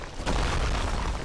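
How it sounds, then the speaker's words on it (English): A firebomb bursts in Dark Souls, one sudden loud boom that swells into a dense roaring blast and holds for about a second. "I also abhor the practice of these firebombs being completely hollow. There's nothing inside them. I don't know why they're exploding."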